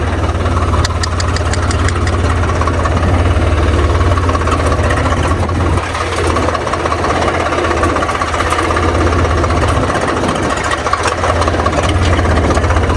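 A Red Hulk tractor engine runs steadily in second gear while working a soybean field, a loud continuous low diesel drone with a knocking, rumbling texture throughout, with no talk over it.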